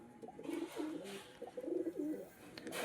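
Kalshira pigeon chicks in a loft coo softly and close by, repeating low, rolling coos in several short phrases over quiet background.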